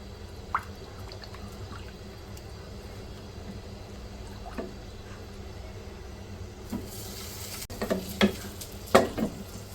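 Egg and potato curry broth being stirred in a pot on the stove, with quiet liquid sloshing and scraping that grows louder and more frequent toward the end, with no voices.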